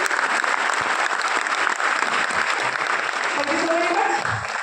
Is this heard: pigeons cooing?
no